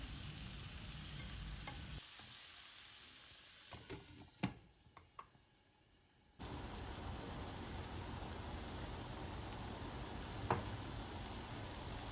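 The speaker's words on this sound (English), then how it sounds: "I'm going to just saute this tomato until it mashed up" Tomato sautéing in oil in a pan makes a continuous quiet sizzle with occasional stirring clicks; the frying noise drops away briefly in the middle, then returns steady and even.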